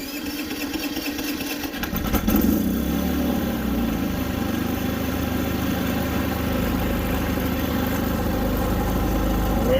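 A Predator 3500 generator engine starts up after priming and settles into a steady, loud, continuous running drone, close by and uninterrupted, with no talking.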